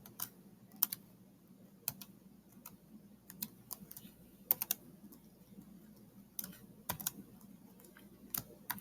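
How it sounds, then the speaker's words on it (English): Sparse, irregular key clicks from someone typing a long password on a computer keyboard, close and fairly quiet against a low steady hum, with no talking. "I'm just going to enter my password"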